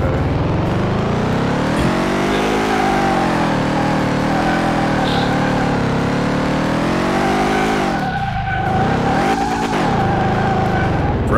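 A car in Car Mechanic Simulator 2018 drives on the test track. Its engine gives a loud, continuous drone that rises and falls as it revs, dips briefly and then surges again, with no talk over it.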